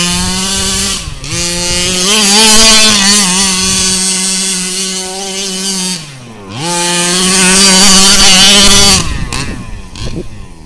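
A Rovan 36cc gas-engine RC rally car roars loudly nearby, its two-stroke engine revving high and steady with two dips as the throttle drops and rises again, then fading at the end.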